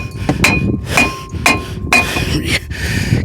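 A big hammer strikes a rusted brake rotor on the hub of a 2017 Ford Fusion, five loud, evenly spaced metallic clangs that ring briefly after each blow, close and alone.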